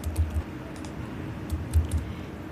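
Typing on a computer keyboard while creating a file in a code editor: a few soft, quick clusters of key clicks, close and quiet, separated by short pauses, with no talking.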